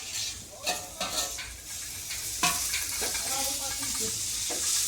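Chopped tomatoes go into a hot pan for a wild karTulya vegetable dish and fry with a steady sizzle, broken by repeated scraping stirs of a spoon against the pan, close and clear with no talk.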